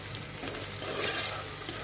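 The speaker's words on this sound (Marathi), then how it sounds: "आपलं टोमॅटो 1 मिनिट परतून झालंय" Tomatoes sautéing in a pan for matki usal, a steady close sizzle and frying hiss with faint stirring throughout the short stretch.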